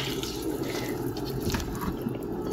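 Hot water running steadily into a cooking pot, a continuous splashing pour that stays at an even, moderate level throughout.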